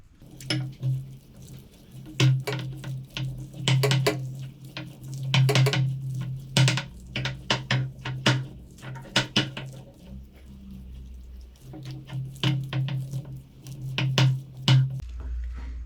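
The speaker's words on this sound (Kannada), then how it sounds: "ಈಗ ನಾನು ಬಜ್ಜಿ ಹಿಟ್ಟನ್ನು ಕಲಿಸ್ಕೊಳ್ತಿದ್ದೀನಿ." Bajji batter being mixed by hand in a bowl after water is added, giving repeated soft clinks and scrapes in uneven bursts, fairly close, with no talking.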